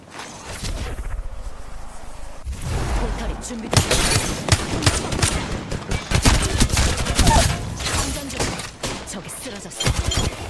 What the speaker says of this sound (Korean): 앞에 싸운 소리 들리지